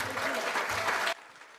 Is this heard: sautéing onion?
no